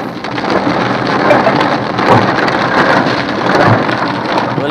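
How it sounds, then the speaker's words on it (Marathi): Heavy unseasonal rain pours steadily in Panvel near the Mumbai–Pune Expressway, a loud, dense hiss of rain on surfaces with faint low rumbles, constant throughout with no voices. "पनवेलमध्ये जोरदार पाऊस बरसतोय"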